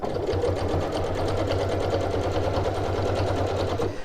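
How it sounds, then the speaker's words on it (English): A sewing machine runs steadily and close by, stitching reinforcing seams on the strap of a reversible fabric tote bag, with an even, continuous motor hum and rapid needle rhythm and no talking. "Come over the end, and I'll do some more reinforcing stitches"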